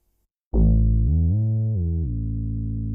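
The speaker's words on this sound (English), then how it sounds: "A bit of distortion." A sustained, buzzy synth tone with gritty distortion and glide kicks in abruptly, bends up in pitch, holds, then settles lower and rings on steadily, loud and alone, in Logic Pro X.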